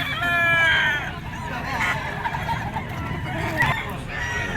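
A yellow-legged gamefowl stag at a Philippine rooster market crows with a harmonic call, followed by shorter clucks and crows amid market noise and faint voices.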